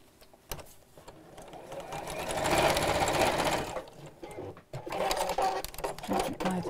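A sewing machine quilting over stitched lines on fabric, its motor whirring in a sustained run that rises and eases, with people talking around it.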